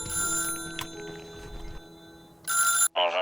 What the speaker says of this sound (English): Oh, random phone call?